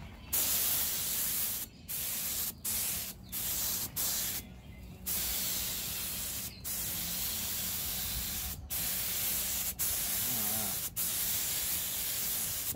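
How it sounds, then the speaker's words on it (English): Rust-Oleum chalk paint hisses out of a paint sprayer onto a furniture piece in short and longer bursts, close and fairly loud, separated by brief silent gaps between trigger pulls. "we're just using Rust-Oleum on this piece to see how it does through the sprayer"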